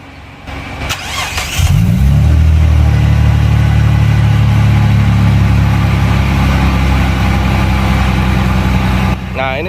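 An old car's engine cranks and catches, then runs loud and steady with a deep, throaty rumble as the car is driven out of a garage.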